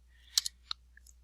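Small mouse clicks while working in Photoshop: a close double click, then a single click, and a faint tick after that, all crisp and brief against a quiet background.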